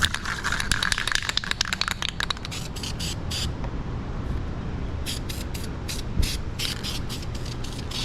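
A nearly empty spray can of clear coat on a 1981 Dodge D150 engine hisses and sputters in rapid bursts, the spitting growing more broken and intermittent as the can runs dry, heard close up without talk.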